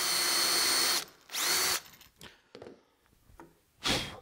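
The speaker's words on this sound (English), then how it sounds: "drill a hole precisely centered on our board" A power drill whines steadily in two bursts, drilling a centered hole in a wooden board with a self-centering bit in a guide, then cuts off, followed by scattered clicks and handling noises and a final short whir.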